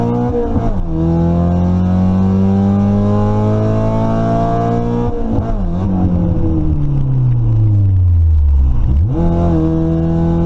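A drag racing car on drag radials does a burnout, its engine revving hard and steady with loud, sustained roaring. Pitch rises and falls twice as the revs change, with no talk over it.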